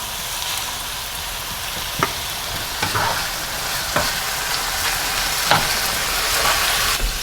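Diced tomatoes with green chilies sizzle steadily in a hot pan, with a broad frying hiss and a few soft clicks of stirring scattered throughout, no talking.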